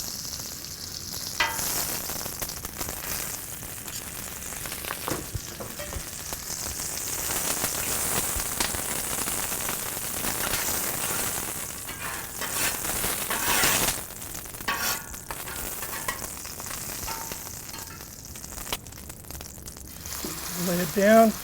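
A thick tomahawk ribeye steak sizzles in beef tallow on a Blackstone griddle, a loud, steady frying hiss that swells and crackles for the whole stretch, close up, with a person talking faintly underneath.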